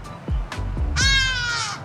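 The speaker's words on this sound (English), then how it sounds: "I want to show you a bird that has a fear of flying because the thing screams all the damn time." A hadeda ibis calls loudly overhead in flight, a few harsh raucous caws followed by a longer strained screaming cry, close and alone.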